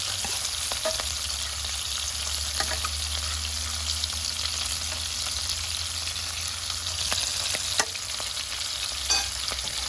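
Shrimp fry in grape oil and butter in a pan, a loud, continuous, close sizzle with occasional light clicks and scrapes from turning the shrimp, and no voices.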